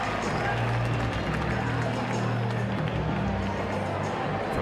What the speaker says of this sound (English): That's the applause you hear